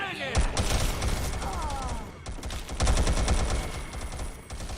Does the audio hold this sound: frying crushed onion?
no